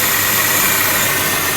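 A Subaru GC8 Impreza engine idles after oil and gasket changes, a loud, steady, broadband rumble with a continuous mechanical hum and no voices over it.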